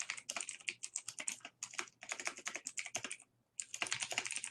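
Someone types quickly on a computer keyboard, producing dense bursts of clicking keystrokes with a brief pause before the typing resumes.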